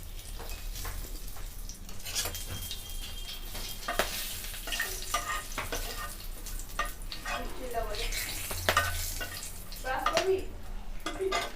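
Whole garam masala and bay leaves fry in hot oil, giving a loud crackling sizzle with frequent stirring scrapes and pan clatter that grow busier toward the end.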